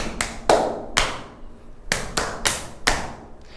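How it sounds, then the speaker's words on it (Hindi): Dholak-style therapy clapping: sharp, close hand claps land in an uneven, drum-like pattern, single strikes and quick pairs separated by short gaps, with no talking. "ये तालियां क्यों बजाना है? ये ढोलक ताली है"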